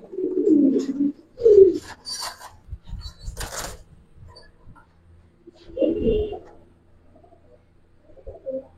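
Domestic pigeons kept at a house, silver khaki breed, give soft low cooing calls in a few separate bursts, with quieter shuffling and rustling between them.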